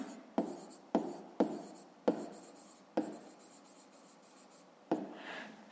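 Pen or pencil writing on paper while working a grade-five math problem: several quick scratchy strokes in short bursts with brief pauses between them, close and fairly quiet with no talking.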